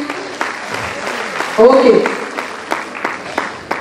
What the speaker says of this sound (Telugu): సూపర్ సూపర్, క్లాప్స్ ఇవ్వండి వీళ్ళకి.